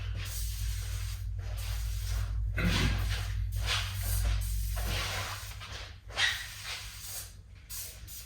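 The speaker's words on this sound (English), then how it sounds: "I lubricated the outside frame of the window here on the car with the silicone spray" Silicone spray hisses onto the window seal of a 1968 Volkswagen Beetle in several short bursts of varying length, close and moderately loud over a low steady hum.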